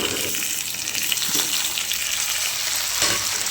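Potatoes, long beans and pumpkin frying in oil with black cumin and five-spice seeds, giving a loud, continuous close sizzle with faint stirring scrapes.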